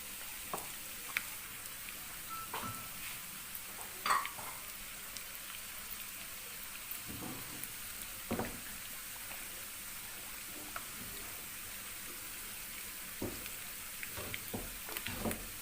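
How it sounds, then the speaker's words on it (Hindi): Browned onions go into a sizzling desi ghee tempering for chicken haleem, a quiet steady frying hiss with scattered crackles and a few louder pops, heard close with no talking. "यहाँ पे इस पे मैं ये जो प्याज ब्राउन किया हुआ है वो ऐड कर रही हूँ"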